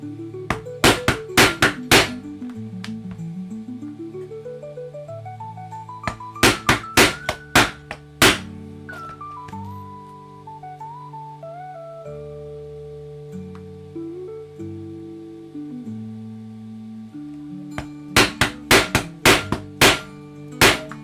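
A hammer drives a leather punch through a stiff, vinyl-like leather for a custom ita bag. Sharp, close taps come in quick bursts at the start, middle and end, over a steady musical background.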